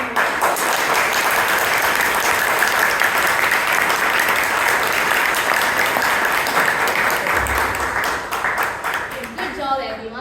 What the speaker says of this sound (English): Can we have a demo clapping?